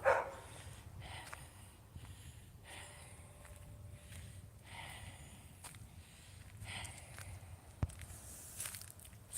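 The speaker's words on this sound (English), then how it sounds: "Sorry about the dogs barking." Dogs barking at a house up on a hill in Moscow, Idaho, distant and faint over outdoor ambience and footsteps, with a few scattered barks across the stretch.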